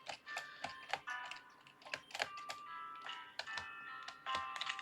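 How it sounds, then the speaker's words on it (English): Computer keyboard keys clacking in an irregular, busy rhythm, close and fairly quiet, over soft tonal music playing in the background. "sorry if you hear the mixed sound of, like, my keyboard mixing with music"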